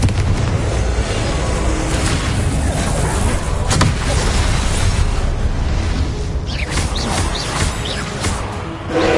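Repeated Confringo fire-spell blasts in the video game Hogwarts Legacy, a dense roar of booming explosions and crackling bursts that runs continuously and loudly throughout.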